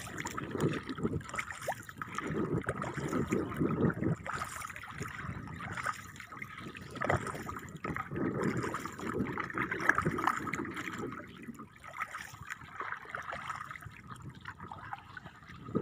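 River water flows and gurgles continuously, with splashy trickling and soft lapping, moderately close and fairly quiet throughout.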